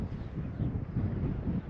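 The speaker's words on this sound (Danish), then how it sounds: "Og der er faktisk en rimelig hård vind." Strong northeasterly wind on the coast of Ærø buffets the microphone during sea trout fishing. It makes a steady, gusting low roar with no speech.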